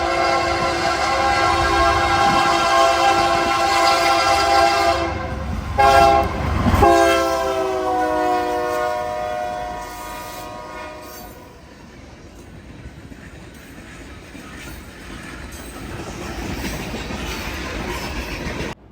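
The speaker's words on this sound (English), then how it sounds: "the train I got was a northbound limestone train, led by a loud as heck" A northbound limestone freight train passing nearby, its loud horn blaring in long sustained blasts over the rumble of the wheels, then the rolling clatter of the cars continuing steadily after the horn stops.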